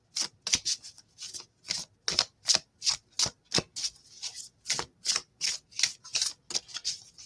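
A Christ Consciousness oracle card deck shuffled by hand, giving a steady run of soft, crisp papery snaps, close and alone, about two or three per second.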